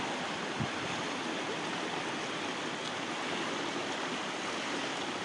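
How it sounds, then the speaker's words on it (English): Fast-flowing river water swirling through the channel at Bradford-on-Avon, a steady, dense, loud rush with no breaks, heard alone and fairly close. "Down a lot of swirling water down there, really swirling away."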